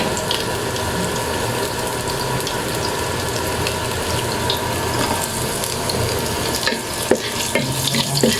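Onions fry in a hot pan with garlic for a vegetarian adobo, a constant dense sizzle with occasional scraping and ticking stir sounds near the end, without speech.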